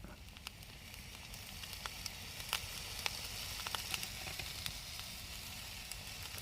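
Food sizzling steadily in a pan over a campfire at a solo wild camp in woodland, a continuous fierce hiss with scattered small crackles and pops, no talk.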